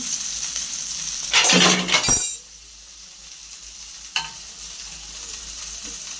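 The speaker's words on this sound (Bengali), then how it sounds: "মাছ হচ্ছে ভাজার জন্য বসাই দিচ্ছি" Fish dropped into hot oil in a pan gives a loud burst of sizzling and spattering, which then settles into a steady, quieter frying hiss with a single faint clink of a utensil. No one speaks.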